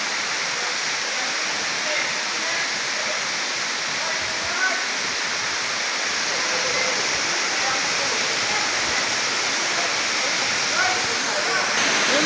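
Balete Falls, a natural mountain waterfall at a resort, gives a constant, dense roar of falling water that stays steady and full throughout.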